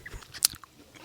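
A person bites into a pear with one sharp, crisp crunch, followed by faint soft chewing, close up in a quiet room.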